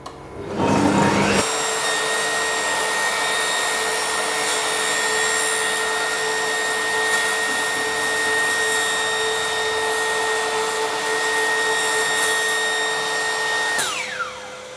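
A Bosch table saw fitted with a dado blade spins up sharply and cuts into a table saw insert plate, a loud steady high whine with ringing tones that holds for about twelve seconds before winding down.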